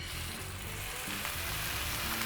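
Chicken wings fry skin-side down in a little oil in a hot flat pan over medium-low heat, giving a steady, close sizzle that runs throughout with no voices.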